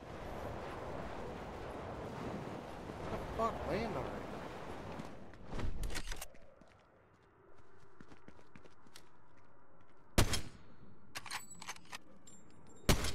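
Sharp, distant gunshots crack out one at a time in Fortnite, standing apart from a busier burst of noise and rumble at the start.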